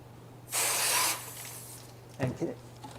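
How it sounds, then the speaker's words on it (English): A spray hose bursts on for about half a second of loud hissing water, followed by quieter rattling and splashing as an emptied basket is rinsed out. "rinsed out with your spray hose"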